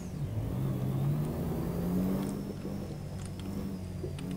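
Car engine revving while reversing in Euro Truck Simulator 2, a Fortuner or Land Cruiser stuck off-road, with a continuous loud mid-pitched drone whose revs rise and fall slightly throughout, no voices.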